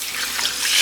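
Cream and water pour into a skillet, a short close trickling, splashing stream lasting under a second that swells slightly toward the end, alone without talk.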